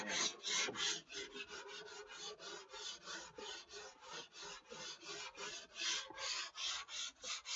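A sanding block rubs back and forth over a foam repair, making a rhythmic rasping scrape of about four strokes per second, close and steady with no voices.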